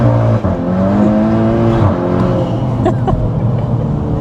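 A tuned Stage 2+ Volkswagen Scirocco R engine revs hard and steady, loud and close, with pitch rising and falling as the throttle opens, a few sharp pops cutting through.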